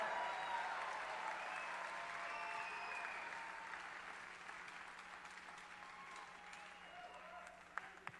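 A stadium crowd at a World TeamTennis match cheers and applauds in a sustained wash of clapping that slowly fades, heard from within the venue, with a faint voice underneath.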